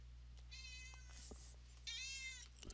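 A cat meows twice, drawn-out, rising cries under a steady low electrical hum, with small clicks and bumps between calls and no talking.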